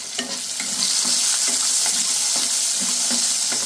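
Crushed garlic dropped into hot oil with chopped onions and curry leaves, frying with a steady loud sizzle while a spoon stirs and scrapes the pan in regular strokes, with no talking.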